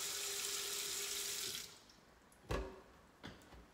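Water gushes loudly from an apartment faucet for about a second and a half, then cuts off, followed by two brief knocks or splashes.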